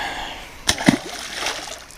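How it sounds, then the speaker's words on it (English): A catfish thrown back into a muddy river makes a brief splash and slosh of water, heard close over steady outdoor background noise. "Just threw that catfish back"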